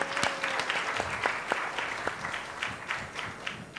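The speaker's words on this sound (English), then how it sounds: "I think she needs an applause, a round of applause" Audience at a keynote event applauds for a founding president, a dense wash of many hands clapping steadily throughout, moderately distant and unbroken, with no talk over it.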